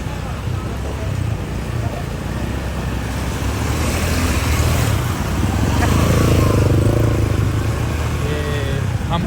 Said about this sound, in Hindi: हम साथ बाइक चला रहे हैं जिसकी वजह से थोड़ा शोर भी आ रहा है वीडियो में।